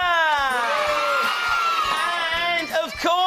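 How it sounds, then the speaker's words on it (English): Studio audience of children cheering loudly on a children's TV show, a sustained high-pitched crowd roar of voices lasting throughout, with a brief dip near the end. "Well, let's have a huge cheer for Robert."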